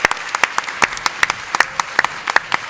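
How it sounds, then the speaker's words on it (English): A small audience at a cultural access summit panel gives a short round of applause for a panelist named Valerie, with scattered, uneven claps from a modest crowd. "A round of applause for Valerie"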